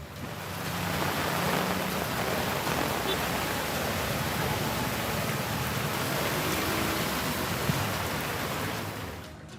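Heavy rain falls in a steady, dense wash of noise that holds at an even level throughout, with no talk over it.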